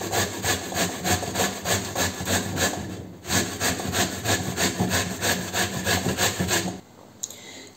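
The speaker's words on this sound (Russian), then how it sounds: "мы натираем кабачки. На крупной терке" Zucchini rubbed on a coarse grater in a kitchen, rhythmic rasping strokes repeating quickly and evenly, close up, pausing briefly once, then continuing before stopping near the end.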